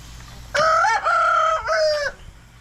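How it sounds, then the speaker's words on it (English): A large rooster crows nearby on a homestead, a loud drawn-out cock-a-doodle-doo with a hitch in the middle, standing alone against faint background noise. "That's Peter Parker, one of our big roosters."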